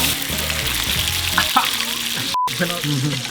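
Beef sizzles and fries in butter in a hot pan, a steady close crackle with faint stirring, heard at a Vietnamese food spot in Boston's Viet town.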